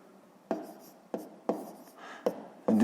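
A pen writes numbers on paper while working a fifth-grade math sum, a few distinct scratchy strokes up close, separated by short quiet gaps.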